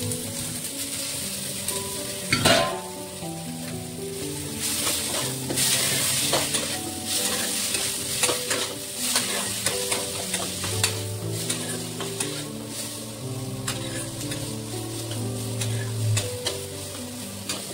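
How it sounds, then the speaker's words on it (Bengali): Capsicum and carrot sizzle steadily in a hot pan alongside chili, onion and tomato, while a spoon scrapes and clatters against the metal in repeated stirring strokes. There is no speech. "এখন হচ্ছে ক্যাপসিকাম আর গাজর দিয়ে দেবো"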